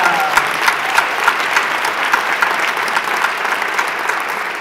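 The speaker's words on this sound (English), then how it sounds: "Now give that a clap." Applause from an audience at an award ceremony honouring a bridegroom, a steady dense patter of many hands clapping, fairly close and sustained for several seconds without talk.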